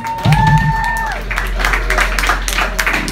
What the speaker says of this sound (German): Ja, Applaus hier.